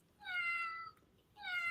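Two clear cat meows from a game sound effect, each a drawn-out tonal call, separated by a short pause and heard alone at moderate volume.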